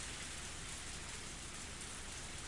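Heavy rain pours down in the visual novel Higurashi When They Cry Hou, a steady, uniform wash of drops with no voices or other sounds.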